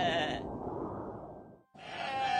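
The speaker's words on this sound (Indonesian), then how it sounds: "Kambing-kambing milik Amir yang berjumlah sangat banyak meninggalkan jejak yang bertumpuk di atas tanah" A large flock of goats belonging to a herder in the desert bleats in two long, loud, wavering calls close by, separated by a brief silent gap.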